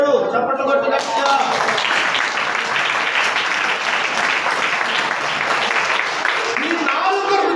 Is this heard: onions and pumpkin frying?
no